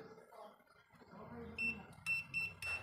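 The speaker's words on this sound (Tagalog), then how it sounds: "kung nakikita nyo ay okay naman yung timer, tumutunog pa" A twin tub washing machine's timer rings in a series of short, sharp beeping bursts near the end, following a stretch of quiet speech and handling noise.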